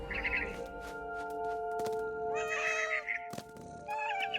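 A cat meows several times in the video game What Remains of Edith Finch, drawn-out tonal cries rising and falling over a sustained musical drone, with soft thuds between them.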